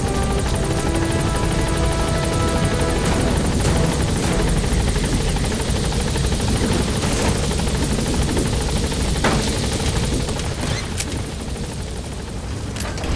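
A helicopter from the video game Metal Gear Solid V lifts off and gains altitude, its loud rotor thrum and turbine whine continuous and close throughout, with no talking.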